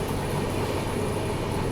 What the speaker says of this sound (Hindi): अभी अपनी ट्रेन क्रॉस कर रही है यहाँ पर, देखो नर्मदा रिवर।